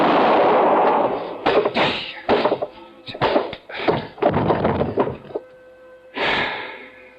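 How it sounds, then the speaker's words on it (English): Gunshot sound effect in a radio detective drama: a burst of several sharp, loud cracks and thumps in irregular rhythm, ending with one more heavy blast after a short gap. "I knew the sound of the gunshot would bring the others back to the cabin."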